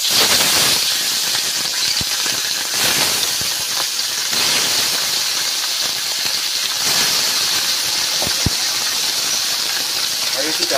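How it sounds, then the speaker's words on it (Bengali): Large tilapia fish fry in hot oil, giving a loud, continuous sizzling hiss with occasional pops and crackles. "তেলটা গরম হয়ে গিয়েছে, এবার মাছগুলো দিয়ে দেবো তেলে। বড় বড় তেলাপিয়া মাছ।"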